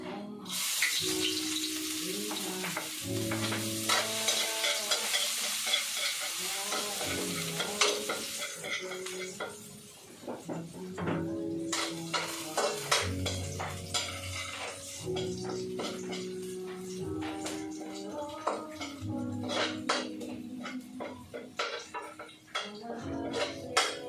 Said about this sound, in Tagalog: Luluto tayo. Ito, ng bawang sibuyas.